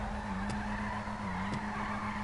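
A car power-slides in GTA Online, its tires squealing in a steady, loud skid over a continuous engine drone with a couple of brief ticks.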